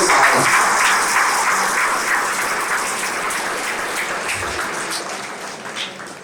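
Loud, dense applause from an audience at a ceremony honouring teachers on World Disability Day in Ballari, a steady wash of clapping that slowly fades over several seconds.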